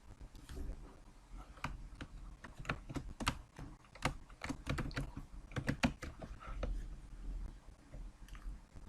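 Rapid, irregular keystrokes clatter on a computer keyboard, close and continuous, with short bursts and brief pauses, as a database name is typed in server backup software.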